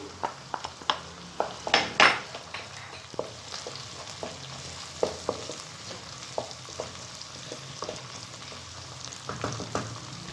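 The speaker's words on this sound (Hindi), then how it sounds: "अब हम इसमें ये गरम मसाला ऐड करेंगे।" Garam masala tipped into onions lightly golden in hot oil for keema, steady frying sizzle with many sharp metal clacks and spoon scrapes against the pot, one louder clatter early, no voices.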